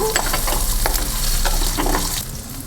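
Small onions sautéing in a pan, meant for a coriander seed chutney: a close, continuous sizzle broken by repeated spatula scrapes and stirs, with no one talking.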